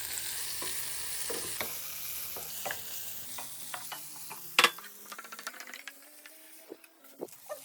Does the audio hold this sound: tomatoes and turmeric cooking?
yes